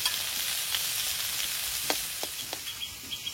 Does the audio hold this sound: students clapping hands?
no